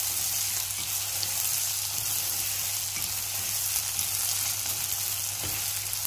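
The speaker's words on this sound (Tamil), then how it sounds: "கருவேப்பிலை, அப்புறம் நாங்கள் வெட்டி வச்சிருக்கிற ரெண்டு வெங்காயம், பச்சை மிளகாய் எல்லாத்தையும் போட்டு இதை நல்லா வதங்க விடுவோம்." Onions, curry leaves and green chillies sauté in a pan for an ash plantain curry, giving a continuous moderate sizzle and crackle close by with faint stirring and no speech.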